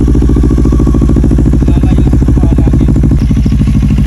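An NK400 big bike weighing 205 kg runs in a wide open area during a beginner's riding lesson, its engine a loud, steady, close-up rumble with a fast pulsing beat and slight rises in throttle.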